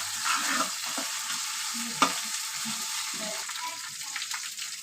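Ingredients for village-style rice biryani fry in a pot, a crackling sizzle broken by stirring scrapes and one sharp clank, with no voices.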